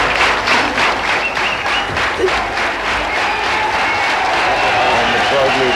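A crowd at a world billiards championship applauds the winner with loud, sustained rhythmic clapping and some cheering, while a commentator talks over it.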